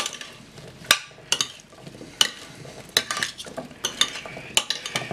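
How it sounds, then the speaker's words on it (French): Brussels sprouts halved and sweet potatoes being tossed in a marinade, with loud, irregular clinks and scrapes of a utensil against a bowl amid wet mixing sounds, close and without talk. "Je vais y mettre les choux Bruxelles que j'ai coupés en deux. Et mes patates douces. Je vais bien mélanger tout ça."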